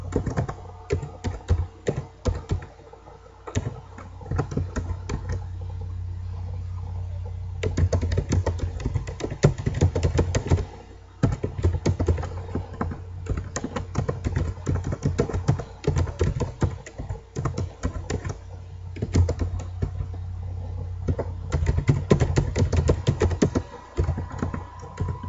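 Continuous close-up clatter of a computer keyboard as C# code is typed, bursts of quick keystrokes separated by brief pauses, with no voices.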